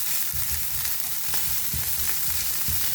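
Turmeric and ginger garlic paste fry in a pan for a curry bun filling, giving a steady close sizzle with soft, repeated scrapes and thuds of stirring.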